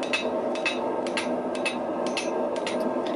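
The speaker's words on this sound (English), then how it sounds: "I'm going to take it back over to the anvil and quickly hit it" Hammer striking hot Damascus steel on an anvil during forge welding, a rapid series of sharp metallic blows, roughly a dozen in quick rhythm over a steady background roar.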